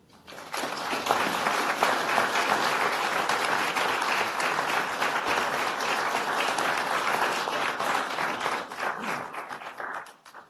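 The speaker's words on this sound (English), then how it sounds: "He deserves our respect and a round of applause this morning." A round of applause fills a morning Board of Supervisors regular meeting, a dense, steady clapping from the room lasting about ten seconds before tapering off.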